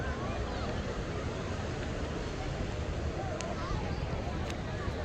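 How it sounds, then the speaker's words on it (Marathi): Ocean waves at Aksa Beach in the morning, a constant broad wash of surf rolling in with wind buffeting the microphone, steady and fairly loud throughout. "मस्त लाटा येतात आहे"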